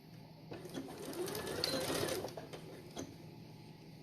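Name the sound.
sewing machine stitching a diagonal quilt binding seam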